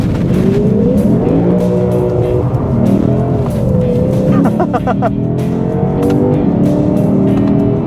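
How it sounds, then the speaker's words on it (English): The deep V8 engine of a 2025 Lexus IS500 F Sport sedan rumbles and revs, its throaty note rising and falling loudly, with a brief rattling burst midway. "The low rumble of that V8 just sounds absolutely incredible."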